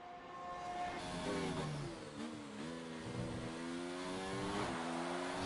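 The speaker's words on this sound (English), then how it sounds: "Just hear the engine note." A Formula 1 racing car engine in an F1 video game at Mexico City wails loudly and continuously, its pitch climbing and dropping through gear changes as it accelerates, with no talk over it.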